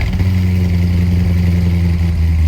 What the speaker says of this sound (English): real, all American, freedom sounding, gasoline consuming internal combustion engines